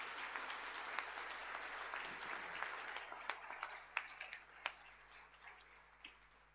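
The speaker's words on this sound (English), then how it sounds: "We can give them a round of applause," Applause from an audience at a senior high school prizegiving, a steady patter of many hands clapping at moderate distance with a few sharper individual claps standing out.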